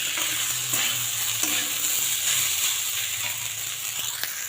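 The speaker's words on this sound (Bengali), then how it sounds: "আমি আজকে এইভাবে ভাতটা ভেজে ভাবছি সকালবেলা খাবো" Leftover cooked rice frying in a pan, with a continuous close sizzle and the scrape of a spatula stirring it, steady throughout with no voices.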